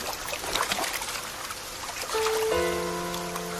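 River water flows and trickles steadily while a character bathes in an animated series, with sustained musical tones joining partway through.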